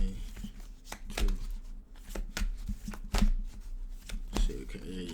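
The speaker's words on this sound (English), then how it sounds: "One more shuffle, guys." A deck of tarot cards is shuffled by hand, giving repeated riffling snaps and soft slaps in irregular bursts, close and fairly loud, while a person talks alongside.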